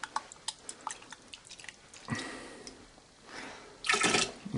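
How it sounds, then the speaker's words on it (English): Hot water sloshes and swirls inside a container holding leftover honey for mead making, with drips and splashes, then two stronger bursts of swishing close by. "I'm going to swish this around now with the hot water in."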